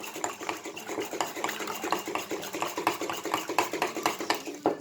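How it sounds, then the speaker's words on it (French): Rapid clinking of a utensil against a bowl as eggs are stirred with a little pepper, quick regular scraping taps close by with no talk. "Voilà, je vais touiller mes œufs."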